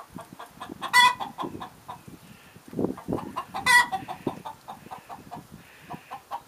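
Chickens cluck repeatedly nearby, a steady patter of short clucks broken by two louder, higher squawking calls.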